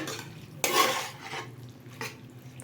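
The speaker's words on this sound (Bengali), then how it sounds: "কষিয়ে নেব খুব ভালোভাবে এটাকে আমি কষিয়ে নিচ্ছি" Watermelon peel curry with yogurt being stirred in a pan, a utensil scraping in a few bursts with one loud stroke and softer ones after, over a low background hum.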